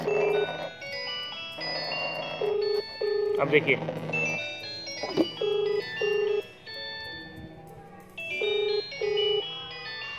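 An outgoing mobile phone call rings on speakerphone, a repeating two-tone ringback in short regular bursts with gaps, heard near and clear while someone talks over it.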